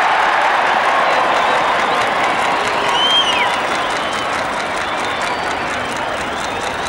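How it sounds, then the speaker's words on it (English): A rugby crowd at Gwent versus New Zealand in 1972 roars and applauds for Gwent's first points, a loud, broad wash of cheering and clapping that stays strong then eases slightly, with whistles rising through it. "That's the crowd's first chance to open their lungs on Monmouthshire's behalf, and their noise hits the heavens"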